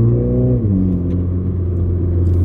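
Close inside a Mini JCW GP3, the engine drones loudly, its note dipping as a gear changes, then climbing steadily again under load, a strong, humming exhaust tone with no talking.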